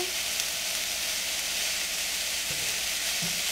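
Onion and zucchini pieces grilling in a pan, giving a continuous, even sizzle and hiss with no talking and a couple of faint low knocks near the end.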